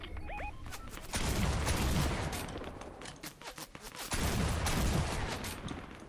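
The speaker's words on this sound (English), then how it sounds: "They're shooting at me, they're distracted." Battle noise in Fortnite, with dense, loud volleys of gunfire in two long bursts separated by a short lull, and a few faint game beeps at the start.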